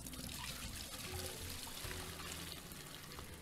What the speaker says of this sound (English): While holding the bucket, you can click on the sink to fill it with water.